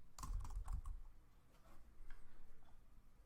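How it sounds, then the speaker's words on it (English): A name typed on a computer keyboard, a quick burst of close, soft key taps, then a few scattered keystrokes, quiet and alone. "So I can just type in a name."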